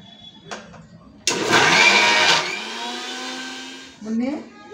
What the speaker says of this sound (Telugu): ఇప్పుడైతే మేము మిక్సీ వేసుకున్నాము